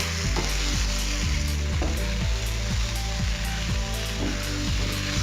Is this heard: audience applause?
no